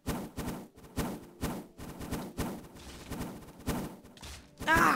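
Repeated gunfire and grenade launcher shots from the video game MW3 in a Minecraft-style D-Day team deathmatch, about ten evenly spaced, punchy bursts landing roughly every half second, fairly close and clear.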